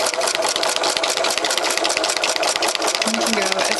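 A sewing machine stitches a straight line on a paper notecard, its steady rapid needle rattle running loud and close without pause, with a brief faint tone near the end.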